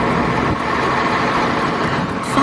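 A fire truck engine rumbles in a steady, heavy idle with a continuous broadband drone, close and fairly loud, with no siren.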